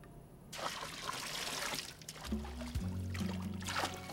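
Rinse water sprays and trickles steadily in a child's bath played as a car wash, close and moderately loud, with a low hum and short tones near the end.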